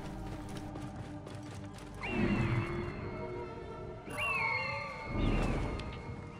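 A wild horse in the video game Assassin's Creed Origins, with hooves clopping close by and two whinnying neighs over a low ambient game soundscape.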